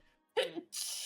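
A single sharp sneeze, close and loud, followed by a burst of breathy hiss.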